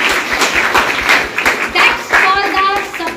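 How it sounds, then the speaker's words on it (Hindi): A room full of people clapping for the team at an OK Life Care training session in Kaimur, Bihar. Steady, dense applause fills the clip, with a few voices calling out over it near the end. "एक बार यशवंत भैया और यहाँ की इंटायर टीम के लिए एक बार ताली बजा दीजिए"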